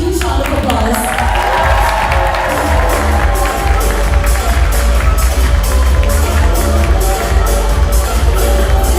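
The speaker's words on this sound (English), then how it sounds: "please give the parents a huge round of applause" At a wedding, a crowd gives the parents a loud, steady round of applause and cheering, with rhythmic clapping that builds partway through and voices babbling underneath.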